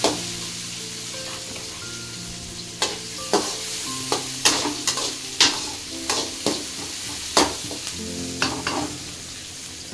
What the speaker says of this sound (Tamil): வெங்காயம் கடுகு எல்லாம் மிக்ஸ் ஆகிட்டதுனால